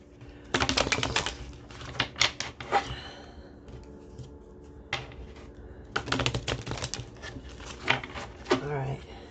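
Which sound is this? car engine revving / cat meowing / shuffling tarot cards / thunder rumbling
shuffling tarot cards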